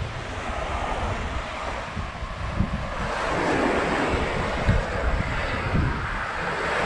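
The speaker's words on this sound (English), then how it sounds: "Here it is, the Baltic Sea." Surf of the Baltic Sea breaking on the beach at Sopot, a steady broad wash of waves with wind buffeting the microphone, swelling slightly midway, heard alone without voices.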